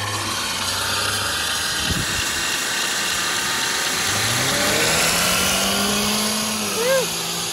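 A Ford car's engine revs hard as its tires spin through a jump, with rising engine tones and a sharp thump near two seconds, heard amid loud outdoor noise and people talking.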